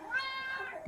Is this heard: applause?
no